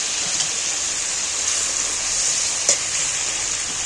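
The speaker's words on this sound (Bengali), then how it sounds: "এইবার আমি পটলগুলো এর মধ্যে তুলে দিচ্ছি" Pointed gourds (potol) tumble into a pot of boiling water with poppy seed paste, making a steady bubbling, sizzling wash with one brief splash near the end, close and fairly loud with no talk.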